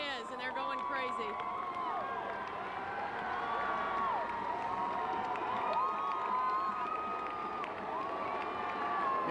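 Dense crowd cheering and shouting at a Red Sox championship rolling rally in Boston, a steady roar of voices with whoops and calls running throughout, loud and close.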